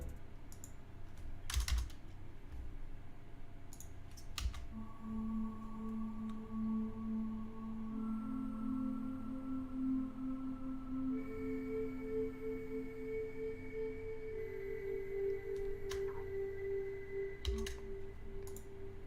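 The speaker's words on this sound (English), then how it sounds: "I used the Wheezing Fairlight preset." Omnisphere synth pad using the Wheezing Fairlight preset, layered with strings, sustaining soft held tones that shift between chords over steady low ambience, with occasional brief clicks.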